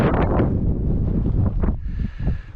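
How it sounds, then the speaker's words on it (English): Strong wind buffets the microphone on a hilltop in the North Western Fells of the Lake District, heavy, low rumbling gusts that rise and fall, loud and close, with no talking. "Bit windy over here."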